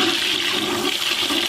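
A toilet flushing in a washroom, its water rushing steadily and loudly for the whole short stretch with no voices.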